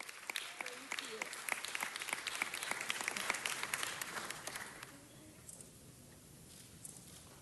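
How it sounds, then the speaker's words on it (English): An audience at a Los Angeles city council meeting gives a round of crisp, scattered clapping that holds for about five seconds, then dies away into quiet room tone. "Let's give a round of applause for Norma Roque."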